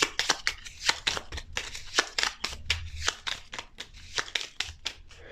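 A deck of Gloomhaven: Jaws of the Lion board game cards is shuffled by hand, giving a close, rhythmic series of crisp riffling bursts with short pauses between them.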